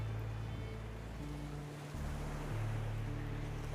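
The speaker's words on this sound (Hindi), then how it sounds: "आप आगे लहरों को सुन सकते हैं" Ocean surf rolling in with wind, a steady continuous wash of waves and spray with a low rumble and no voices, filling the whole stretch evenly.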